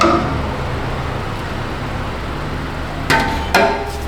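Two sharp metallic hammer strikes on an aftermarket exhaust hanger of a Ford Escape, heard close near the end over a steady low background rumble.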